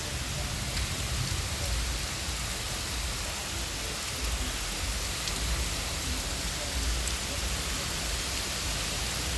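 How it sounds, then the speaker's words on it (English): Heavy rain pouring down in a dense, steady roar of drops on surfaces, continuous and loud throughout. "It is raining hard."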